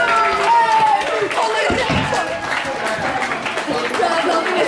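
A crowd applauds at a scooter competition prize ceremony, a steady wash of clapping that runs for several seconds with voices mixed in.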